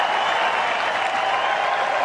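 Golf gallery applauding and cheering for Scottie Scheffler at the Open Championship, a dense, steady wash of clapping that fills the whole stretch at close, even loudness.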